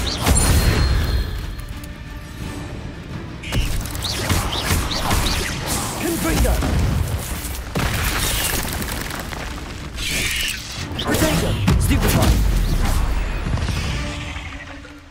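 Confringo spell explosions in the video game Hogwarts Legacy: a series of loud booming bursts and crashing impacts spread over fifteen seconds, dense and rumbling, with brief lulls between them.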